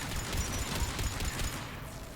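Rapid gunfire hits the player character in Mass Effect 3, a quick burst of muffled shots rattling over a busy game soundscape for a couple of seconds.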